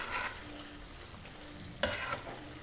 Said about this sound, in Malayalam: ബീഫെല്ലാം ചേർത്ത് കൊടുത്ത് നന്നായി മിക്സ് ചെയ്യാം.